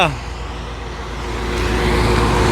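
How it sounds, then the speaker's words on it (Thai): A car climbs a mountain road with a steady engine drone that grows gradually louder. "จะขับรถขึ้นเขาเด้อ"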